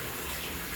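Water being poured during a bath, a brief close splashing gush of steady broadband noise.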